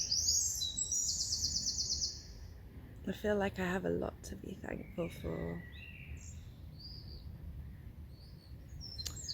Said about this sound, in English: I've got so many beautiful morning birds